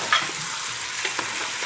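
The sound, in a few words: chicken frying on high heat while being stirred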